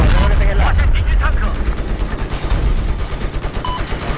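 Dense, rapid bursts of gunfire in Battlefield 4, including tank fire, loud and continuous, with voices talking over the shooting.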